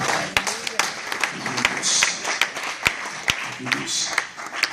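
An audience at a church youth conference in a hotel hall claps in a loose, scattered rhythm of sharp individual claps, with voices talking over the applause throughout.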